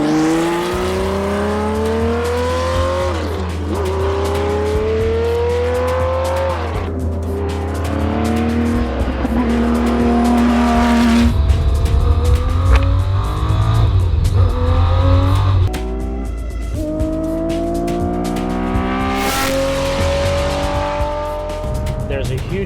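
Porsche 917 race car at a Rennsport Reunion shakedown, its engine revving loud and close with repeated rising pitch sweeps and blips between full and closed throttle, the roar continuous throughout with a voice talking underneath.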